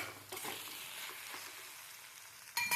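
Cauliflower stem chorchori cooking in a pan with sugar being stirred in, giving a soft, faint sizzle with a few light stirring scrapes and a louder clatter at the very end.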